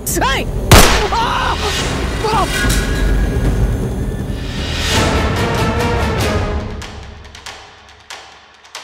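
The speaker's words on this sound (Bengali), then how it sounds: "গুলির আওয়াজ শুনলাম" A gunshot sound effect in a Bengali TV drama: one sharp, loud bang near the start, followed by swelling dramatic sound and a sustained rumble that fades toward the end.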